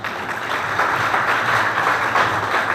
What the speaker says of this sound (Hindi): जितने बच्चे हैं, हाँ तालियाँ बजा दें।